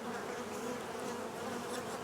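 Bees swarm around a hive in a dense, steady buzz, continuous and close for a couple of seconds with no talk over it.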